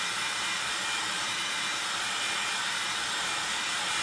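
Heat tool warming embossing powder on a Christmas card, a loud, steady blowing whir like a hair dryer that runs continuously, close and alone without talk.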